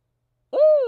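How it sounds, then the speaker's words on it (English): A single owl hoot sounds outdoors after a stretch of silence, one loud, close, sustained tonal call that holds steady and then tapers slightly. "That's the owl singing me happy birthday."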